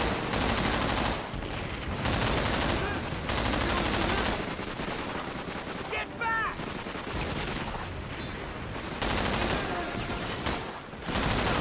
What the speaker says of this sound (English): Then we get to pick up a turret. MG42.